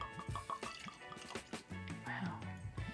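Maker's Mark cask strength bourbon pours from the bottle into a glass in a short liquid trickle with drips, set against a busy background and heard under voices.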